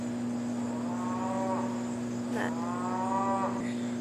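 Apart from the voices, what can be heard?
cows mooing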